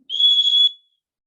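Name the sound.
safety rape whistle being blown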